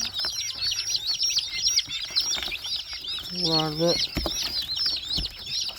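Young chicks just brought from an incubator peep continuously in a dense, high-pitched chorus, close and steady, while a voice speaks briefly partway through.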